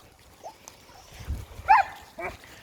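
A dog on a walk gives a few short, high whimpers and yelps, the loudest near the middle, with faint rustling and breathing around them.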